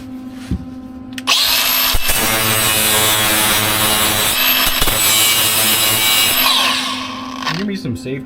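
Grinding on the exhaust of a bagged NB Mazda Miata: a loud, close, continuous power-grinder whine with harsh metallic rasp holding for several seconds, starting and stopping abruptly, with voices briefly audible around it.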